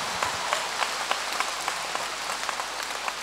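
An audience at a Sydney gathering claps in a steady, even patter of many hands, a continuous rain-like wash of applause heard from the middle of the room with no talking over it.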